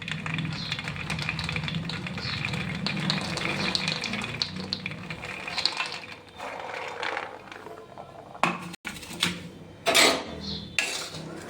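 Raw peanuts poured into a pan for dry roasting over low gas, with dense rattling, clattering and scraping of nuts against metal, louder near the start and thinning toward the end with a few sharp knocks.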